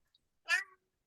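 A cat gives a single short meow, faint and close, in an otherwise quiet home, preceded by a tiny high chirp.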